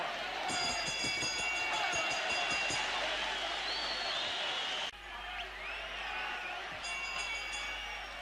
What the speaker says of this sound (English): The crowd begins to come alive here at the National Tennis Center in Melbourne.